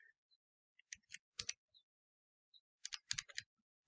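Fingers tap out numbers on a calculator's keys in short quiet clusters of clicks with gaps between them, close and faint, with no talking.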